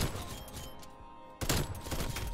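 AUG rifle shots in a video game: a sudden loud burst of broadband gunfire cracks in after a quieter stretch and continues as rapid, dense shots close by, with no voices.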